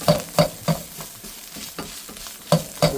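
A spoon scrapes and stirs a concentrated onion, ginger, garlic and spice blend frying in a pan for tikka jalfrezi. The strokes come in a steady rhythm of sharp scrapes over a continuous close sizzle, with no voices.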